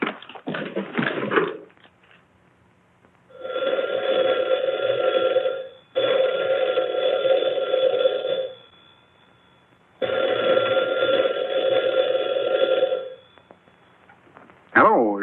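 An old-fashioned telephone bell rings in three long, loud bursts with short pauses between them, close and clear; a voice is heard briefly before and after the rings.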